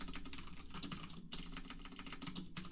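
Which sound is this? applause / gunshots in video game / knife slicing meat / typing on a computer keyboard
typing on a computer keyboard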